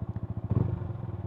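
A Yamaha Sniper 155R motorcycle idles with a quick regular putter, then a short throttle blip lifts the engine's pitch and loudness midway before it settles back, heard up close during rev matching.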